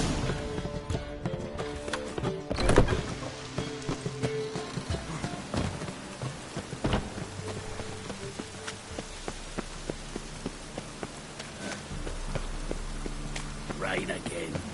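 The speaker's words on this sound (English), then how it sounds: "Rain again. Damn mages." Steady rain falls across a medieval town in The Witcher game, a dense hiss running throughout under game speech, with occasional thuds and hoof-like clops mixed in.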